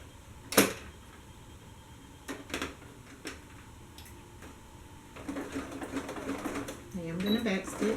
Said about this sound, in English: I'm going to start by making just a slight stitch first to get started